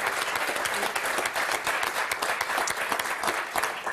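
A studio audience on a French television game show applauds loudly and continuously, a thick, steady wash of many clapping hands throughout.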